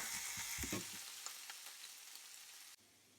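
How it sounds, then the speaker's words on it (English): Sweet peppers cook in olive oil over medium heat with a steady, close sizzle and a few louder pops near the start, then the frying fades to a softer hiss before cutting off. "So I put in a medium heat the peppers to cook first because they take longer."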